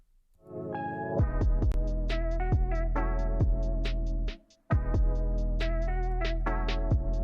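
A lo-fi hip-hop beat with sustained keyboard chords over a deep bass and a steady kick-and-snare pattern, dropping out briefly near the middle before resuming.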